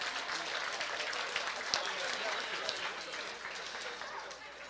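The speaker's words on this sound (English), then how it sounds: "Let's give them a big round of applause." A room of gala guests applauds, a moderate, steady spread of clapping under some chatter from the crowd, lasting a few seconds before it tapers off.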